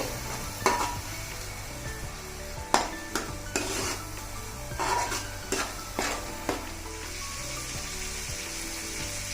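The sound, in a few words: ground paste frying in pan for fish pulusu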